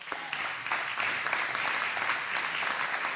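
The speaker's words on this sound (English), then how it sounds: "so you can clap" Audience applause after a talk at a Rosh Chodesh gathering, a steady wash of many hands clapping at moderate distance, continuous for a few seconds without speech.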